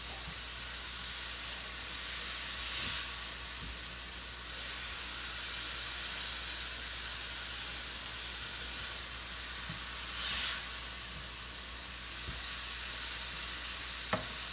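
Shrimp cook in a hot pan with a tablespoon of ketchup, giving a continuous close sizzle and hiss with a few faint stirring clicks.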